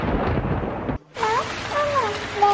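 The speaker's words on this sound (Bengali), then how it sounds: "দেখো বাইরে কত বৃষ্টি হচ্ছে, সাথে বিদ্যুৎও চমকাচ্ছে।" Cartoon storm effect: heavy rain noise roars with a low rumble of thunder, breaks off briefly, then resumes steadily under wavering tonal sounds.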